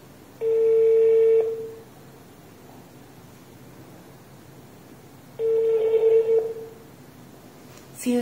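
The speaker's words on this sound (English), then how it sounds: "use SOS number to make phone call to tracker SIM card" A phone call rings through to the SIM card of an iStartek VT206 GPS tracker: two long ringback tones separated by silence, clear and even, followed by a short click at the end.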